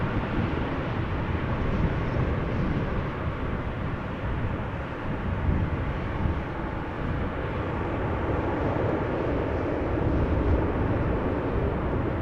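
A large airliner lands at Amsterdam Schiphol with its thrust reversers deployed, a sustained deep roar with buffeting wind noise that swells and holds for several seconds at a distance.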